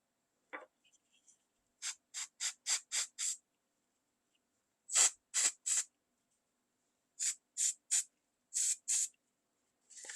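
Short hissing bursts of cooling spray on a chocolate flower come in quick clusters, several rapid puffs at a time with brief pauses between groups, close up and otherwise quiet.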